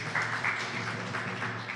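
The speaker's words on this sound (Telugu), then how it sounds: "చప్పట్లు కొట్టండి" A church congregation claps hands together in a short, moderately faint burst of scattered applause lasting under two seconds.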